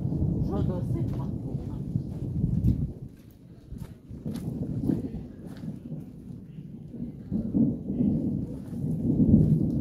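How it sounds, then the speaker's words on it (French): Loud thunder rolling during a strong thunderstorm at Montady, a deep rumbling swell that rises and fades across the whole span, with rain pattering underneath. "au bruit du tonnerre très prononcé"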